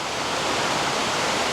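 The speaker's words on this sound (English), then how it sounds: "sorry for the rain noise" Steady, even hiss of rain falling, a constant wash of noise with no breaks or other sounds.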